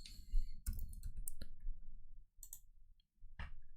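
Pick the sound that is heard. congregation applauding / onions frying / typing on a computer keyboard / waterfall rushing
typing on a computer keyboard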